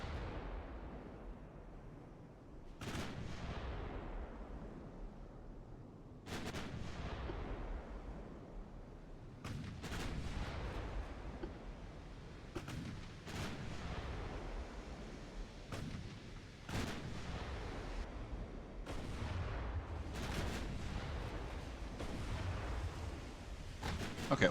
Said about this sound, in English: I guess we're going to start firing the 9-inch guns now